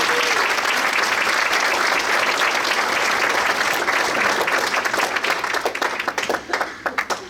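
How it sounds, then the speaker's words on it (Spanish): A church congregation bursts into sustained, loud applause, dense and even for several seconds, then thinning into scattered individual claps as it fades. "Así que dense un aplauso"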